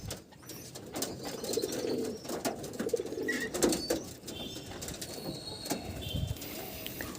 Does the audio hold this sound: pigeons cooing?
yes